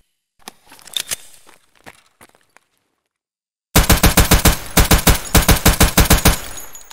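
Rapid pistol gunfire in Escape from Tarkov, a PL-15 fired fast: a few scattered shots and clicks, then silence, then a loud, close burst of evenly spaced shots in quick succession, with no speech.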